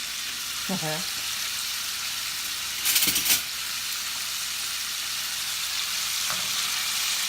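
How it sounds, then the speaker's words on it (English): Chicken sizzles steadily in hot oil, a constant close crackle, with a brief louder clatter of a utensil partway through and a faint voice. "that's the moisture that you hear cooking out of the chicken"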